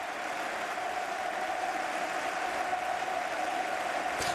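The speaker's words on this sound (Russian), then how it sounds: "Болельщики Барселоны встали и аплодировали команде" Barcelona supporters at Camp Nou applauding their team, heard as a steady, distant wash of crowd clapping and stadium noise that holds at an even, fairly faint level throughout.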